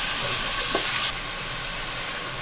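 Tomatoes fry and soften in a pan over high heat for baingan bharta, a loud steady sizzling hiss close by that eases slightly partway through.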